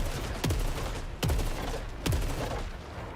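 Gunfire in the video game Saros: three heavy, booming shots spaced under a second apart, each with a sharp crack and a falling low rumble, over a constant dense background din.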